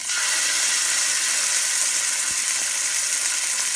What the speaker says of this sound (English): Now we're going to sear all 4 sides